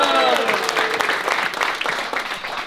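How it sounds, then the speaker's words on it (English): Crowd applause and cheering for Dodgers pitcher Walker Buehler at a magic performance, loud dense clapping with voices and whoops mixed in, strong at first and easing gradually. "Big round of applause for Walker Buehler for having me out here."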